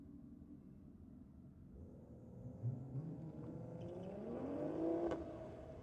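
BMW drag cars accelerate down a race lane at a drag meet, engines rising in pitch as they rev through gears, distant and faint at first, then growing louder with a climbing whine near the end.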